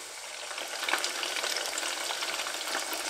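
Coconut-coated chicken nuggets frying in hot oil, giving a steady, moderately loud crackling sizzle with no pauses and no voices.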